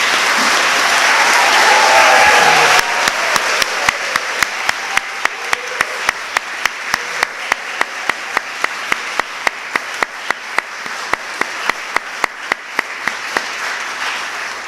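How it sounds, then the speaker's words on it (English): An audience at a Griffith College Cork graduation ceremony applauds the graduates. Dense, full clapping for the first few seconds thins into a steady, evenly spaced pattern of sharp individual claps that carries on to the end. "we might just give a final round of applause for all our graduates"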